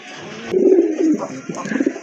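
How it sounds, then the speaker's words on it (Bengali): A pair of pigeons kept for sale, cooing up close in a few throaty, rolling calls that rise and fall over about two seconds, with no speech. "আরেক জোড়া কবুতর দেখতে পাচ্ছেন টপ কালেকশন টপ কোয়ালিটি কবুতর"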